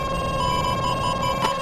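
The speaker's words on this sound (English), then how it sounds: "The plane's beeps grew more frantic." A steady, continuous high-pitched warning tone sounds inside a fighter jet cockpit in the VR flight game VTOL VR as an enemy missile closes in, loud over a constant engine hum.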